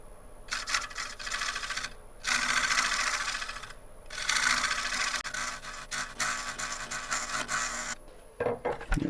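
A hand scraper with a freshly turned burr is drawn across a wood burl in several rasping, scratchy strokes separated by short pauses, close and moderately loud, with no talking.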